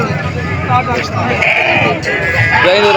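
A goat bleats loudly and continuously at a crowded goat market in Multan, amid constant background chatter and a hubbub of voices.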